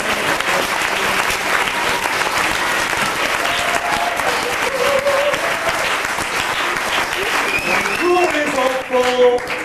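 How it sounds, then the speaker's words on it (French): A crowd applauds steadily throughout, loud continuous clapping with a few voices and cheers rising over it toward the end. "on les applaudit"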